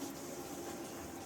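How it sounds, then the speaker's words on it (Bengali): A train runs on tracks beside a rooftop garden, heard as a faint, steady low rumble with a faint hiss over a short stretch, with no voices. "আর আমাদের ছাদের পাশ দিয়েই ট্রেন যায়"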